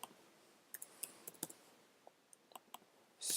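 Sharp, quiet computer mouse clicks, single and in quick pairs, scattered across a nearly silent background, with a brief louder rustle at the very end.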